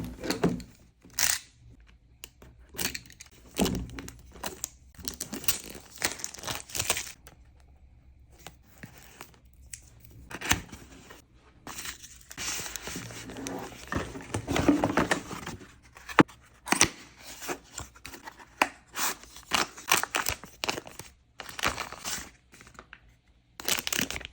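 Packaging for a DJI Osmo Pocket 3 camera being opened, with bursts of crinkling, tearing and rustling of plastic and cardboard coming in irregular handling spurts close to the microphone, no talking.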